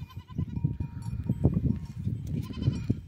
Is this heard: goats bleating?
yes